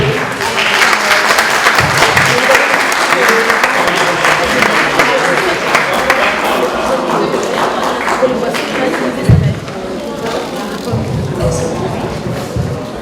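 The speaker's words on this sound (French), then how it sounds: "Je vous remercie, applaudissez-le." Audience applause for a former Gabonese kickboxing champion, dense clapping from a crowd that fades gradually, with some scattered cheers and voices talking over it toward the end.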